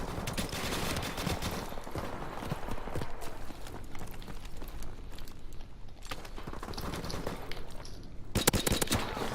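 Rapid gunfire in a Call of Duty match, bursts of sharp shots in quick succession with clatter and movement between them, loudest near the start and end.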